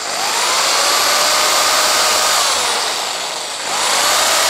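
A Dremel 3000 rotary tool fitted with a 3 mm bit drills holes through a coconut shell, giving a steady, loud, high-pitched whine that sags briefly near the end and then picks back up.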